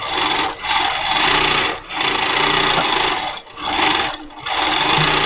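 A quilting sewing machine stitching in steady, loud, close bursts, its whirring run pausing briefly four times before starting again.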